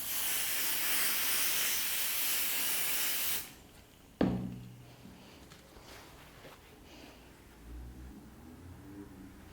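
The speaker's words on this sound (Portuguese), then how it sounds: "então eu vou usar um pouquinho de cola spray," Temporary spray adhesive is sprayed onto fabric in a sewing workspace: a loud, steady aerosol hiss lasts about three seconds and cuts off, followed by a soft knock and quiet handling sounds.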